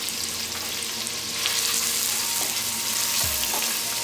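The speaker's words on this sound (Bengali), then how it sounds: "এবার পেঁয়াজটাকে হালকা ভেজে নিতে হবে।" Chopped onions fry lightly in oil, a continuous close sizzle with a few soft stirring knocks against the pan and no talking.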